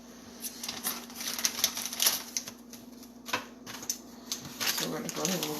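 Scissors snip open a bag of sugar in a kitchen, a quick series of crisp clicking cuts followed by papery rustling, with someone talking over it.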